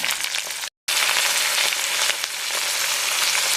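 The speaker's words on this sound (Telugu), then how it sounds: "ఉల్లిపాయలు, టొమాటోలు కూడా వేసి కాస్త మగ్గనివ్వాలి" Onions and tomatoes fry in a pan for a Telugu fish curry (chepala pulusu), giving a steady, close sizzle with a crackling hiss. The sizzle cuts out for a moment near the start. Nobody speaks.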